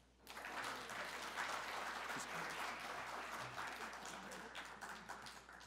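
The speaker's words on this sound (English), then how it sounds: "let's give a big round of applause for Dr." A conference audience at a liver transplant meeting breaks into sustained, dense applause for Dr. Tony Bass, a steady wash of many hands clapping that holds evenly throughout without any talking.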